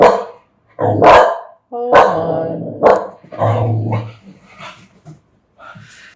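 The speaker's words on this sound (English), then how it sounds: "my dog is barking" A dog barks loudly and close, a few sharp barks followed by softer yips and whimpers trailing off.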